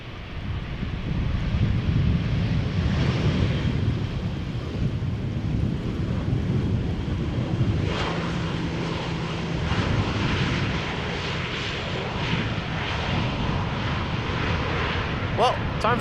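TAP Air Portugal airliner on the runway at Schiphol, a steady broad engine rumble with wind buffeting the microphone, people talking over it throughout.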